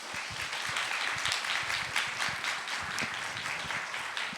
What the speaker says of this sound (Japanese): 今日のご登壇のお三方に拍手をいただいて